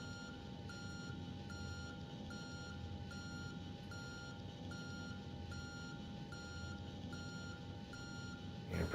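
A jet bridge retracting from a Boeing 737-800 at Anchorage in a flight simulator, sending out a steady train of evenly spaced reversing beeps over a low, constant hum of ground equipment.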